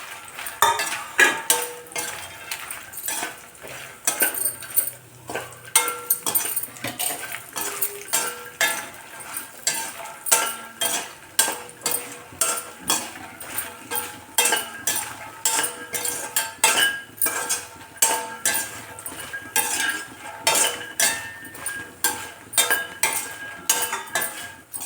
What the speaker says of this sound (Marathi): मखाने पण भाजून घेऊ.